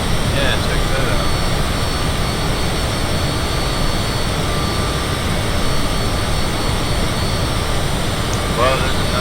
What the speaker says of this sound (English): Well, there's another plane.